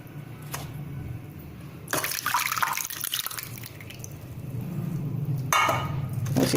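Liquid tamarind pulp for chutney strained through a sieve, with watery dripping and splashing that swells in a loud burst early on and again near the end over a steady low background.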